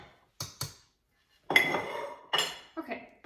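A plate and a spoon clink together in a kitchen while Swedish meatball stroganoff is being made: a few sharp knocks, then a ringing clatter and two further clinks, close and fairly loud against a quiet room.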